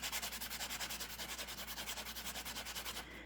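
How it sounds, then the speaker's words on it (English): Earring edges rubbed on a sandpaper buffing block, steady back-and-forth rasping strokes in an even rhythm, close and moderately quiet, stopping near the end. "These just have a thicker sandpaper on them"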